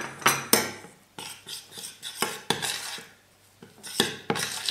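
A spoon scrapes and clinks repeatedly against a bowl while stirring a gooey chocolate mixture with almond flour, sharp close-up taps in an irregular rhythm with brief pauses, and a short exclamation from a voice.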